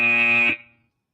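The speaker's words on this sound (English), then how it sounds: "That buzzer means it is the last 10 seconds of the match." Match buzzer at a VEX robotics competition event, a loud sustained electronic tone that holds for about half a second, then cuts off abruptly, leaving only a short fading tail.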